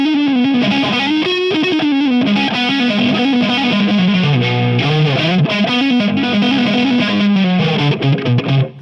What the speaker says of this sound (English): Let's get to some distortion on this thing